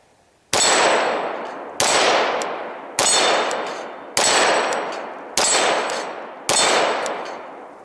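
A Glock 19 pistol mounted in a Micro RONI adapter fires six loud, sharp shots at an even, unhurried pace, each crack followed by a ringing metallic tail that fades before the next.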